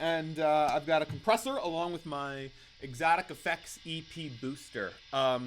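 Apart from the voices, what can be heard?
No everyday noise stands out behind the speech.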